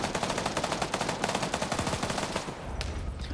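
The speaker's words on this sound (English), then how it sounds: "now this tank is shooting" Rapid machine gun fire in an armor-only wargames PvP video game match, a fast continuous stream of loud, even bursts that cuts off near the end, with no talking over it.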